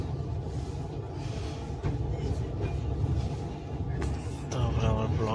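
The Mumbai–Howrah Duronto Express (12261) rumbles along with a steady low roar and faint rattling of the carriages, and a voice or announcement surfaces briefly near the end.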